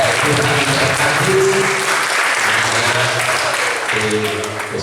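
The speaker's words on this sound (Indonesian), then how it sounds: "Tepuk tangan untuk" Sustained applause from a church congregation at a children's ministry anniversary thanksgiving service, many hands clapping steadily for about five seconds while a voice speaks intermittently over the noise.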